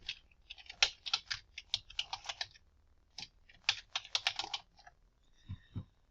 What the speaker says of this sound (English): And I'm going to type Langston Hughes.